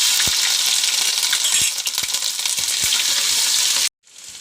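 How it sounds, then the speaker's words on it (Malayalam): Ginger frying in hot oil in a chatti for chicken curry, producing a loud, dense, continuous sizzle with scattered sharp pops before cutting off abruptly near the end. "ഇഞ്ചി ഇടുന്നു"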